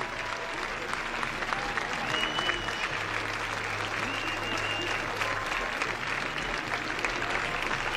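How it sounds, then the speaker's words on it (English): Steady applause from Virginia Tech fans at a 2018 college baseball game against NC State, with a distant announcer's voice faintly audible over the clapping throughout. "And now a nice round of applause from the Tech fans here in attendance."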